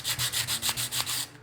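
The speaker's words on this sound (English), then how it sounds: "Just use this 120 grit sandpaper." Bone guitar nut being sanded on 120 grit sandpaper, a steady back-and-forth rasp in about seven even strokes, close and fairly quiet, with no talking.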